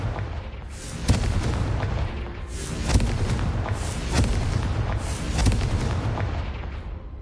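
Repeated blasting-spell explosions in Hogwarts Legacy, a series of deep booms and bursts spaced a second or two apart over a dense rumbling combat bed, fairly loud with no talk.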